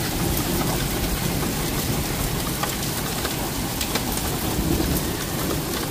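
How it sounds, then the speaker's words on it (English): Hail and heavy rain hammer down during a huge thunderstorm in Cheltenham, Gloucestershire, a loud dense roar of impacts with scattered sharper hits, steady and unbroken with no talking. "But the hail's easing."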